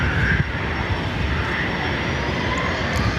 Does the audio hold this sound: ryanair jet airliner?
yes